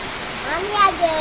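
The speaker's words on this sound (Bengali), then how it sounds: "প্রচুর বৃষ্টি আসতেছে কি সুন্দর বৃষ্টি হতেছে" Heavy rain pours steadily outside a balcony, a dense, even wash of falling water that holds throughout, with faint voices rising briefly above it near the end.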